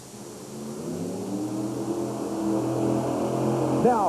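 A 1991 USHRA monster truck racing in Worcester goes to full throttle, its engine a sustained, loud droning roar that slowly builds in intensity against steady arena noise.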